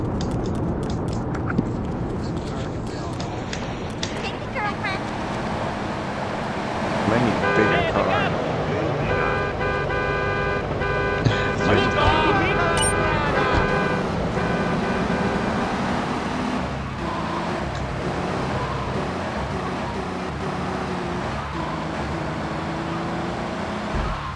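A car in Grand Theft Auto 3 on PS2 drives through city streets, a continuous engine and road rumble with passing traffic, scattered horn toots and wind, while a person talks intermittently over the gameplay.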